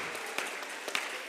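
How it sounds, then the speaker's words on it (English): Seminar audience in Ekurhuleni applauding, a brief spell of fairly soft, scattered clapping from a hall crowd with a few sharper claps standing out. "Let's put a round of applause for ourselves for attending."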